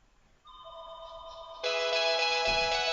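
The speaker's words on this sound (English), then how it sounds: "Oh, another phone call." A phone's ringtone for an incoming call starts as a soft melodic tone, then swells louder into a fuller, sustained electronic ring that keeps going on its own.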